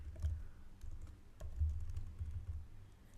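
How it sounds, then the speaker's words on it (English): Fast, light keystrokes clatter on a computer keyboard while text is typed into the Vim editor, a close and steady run of clicks with a few sharper taps and no talking. "and then type text"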